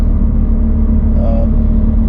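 A Chevrolet car cruises on a highway at about 70 km/h, giving a steady loud low rumble of engine and road noise from inside the cabin with a constant hum throughout.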